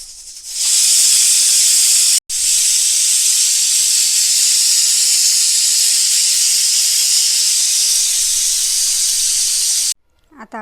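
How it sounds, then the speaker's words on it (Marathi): A pressure cooker holding matki sprouts with salt and turmeric for Kolhapuri misal lets out a loud, close, sustained hissing whistle of steam. It runs nearly ten seconds with one momentary break, then cuts off abruptly. "आणि कुकर बंद करून आपल्याला एक शिट्टी घ्यायची."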